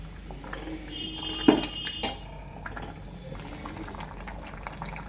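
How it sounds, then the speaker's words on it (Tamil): Black kavuni rice boils in a pot with a steady, close bubbling and simmering and a single clink of a utensil against the pot partway through. "நல்லா கொதிச்சுட்டு இருக்குங்க."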